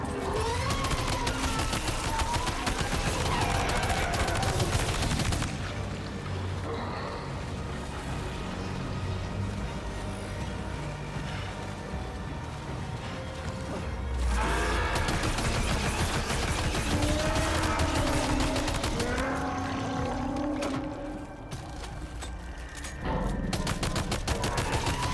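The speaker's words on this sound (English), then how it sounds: "Machine gun." Video game machine gun fire crackles in dense rapid bursts, loud and continuous, broken by short quieter pauses between volleys; no one talks.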